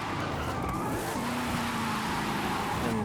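Car drifting with the handbrake pulled in Forza Horizon 5, a steady loud engine roar with a sustained tire screech running through the whole stretch.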